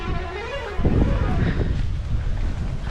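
Gusty wind buffets the microphone at an empty boating area with a low, rumbling roar, strongest after the first second and continuing steadily, with faint water sounds beneath.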